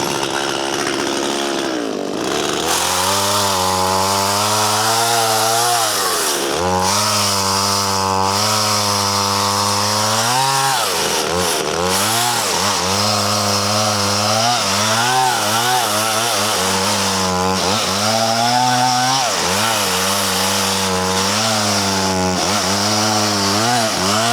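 A freshly sharpened chainsaw cuts through a log during forest work, its engine roaring loud and close, the pitch dipping and climbing repeatedly as the chain bites into the wood, running continuously for over twenty seconds.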